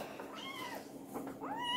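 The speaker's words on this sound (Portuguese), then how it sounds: "Ele que está miando demais." A house cat meows several times in quick succession, close and fairly clear, with rising and falling mewing tones and a final drawn-out call.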